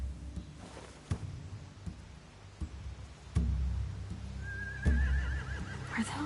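Horses in a video game setting, a clear neigh rising and wavering near the end over low ambient rumble, with scattered soft thuds and clicks and a couple of heavier impacts.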